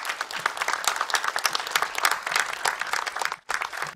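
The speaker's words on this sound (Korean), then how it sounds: "여러분 큰 박수로 맞아주시죠" Loud, dense applause from a talk-concert audience greeting two guests as they come on stage, a continuous crowd of clapping hands that breaks off briefly near the end before resuming.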